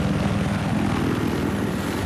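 An attack helicopter in Battlefield Hardline roars loud and close, a dense, steady rotor and engine drone filling the whole stretch without a break.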